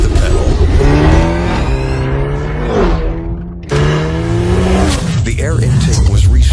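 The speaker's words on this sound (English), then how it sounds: "The acceleration starts as soon as your foot touches the pedal." Hyundai Elantra N revs hard and accelerates with a rising engine howl through gear changes, loud and close, with a brief drop between pulls.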